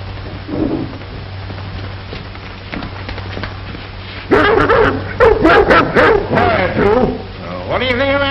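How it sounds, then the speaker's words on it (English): Dogs bark in a loud burst of repeated yips and whimpers with rising, whining pitches. A scattered yelp comes first, and a low steady hum runs underneath the scene from an old film. "Even the dogs don't like him."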